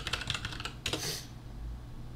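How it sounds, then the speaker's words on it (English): Rapid clicking keystrokes on a computer keyboard while entering a Firebase deploy command, a quick burst of close taps ending in a firmer keypress, then quiet. "for the very last command, you just go ahead and type in Firebase deploy"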